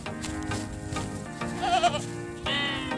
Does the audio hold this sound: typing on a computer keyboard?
no